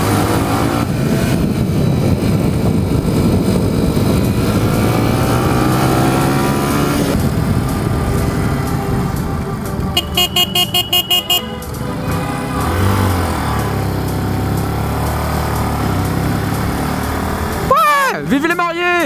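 A motorcycle ridden slowly by a rider with a plastered arm, struggling to shift gears, drones steadily up close; the engine note rises and falls through the ride, car horns honk nearby, and a person talks over it.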